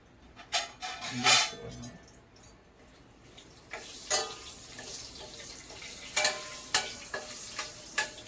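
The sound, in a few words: bay leaves and whole garam masala frying in butter and oil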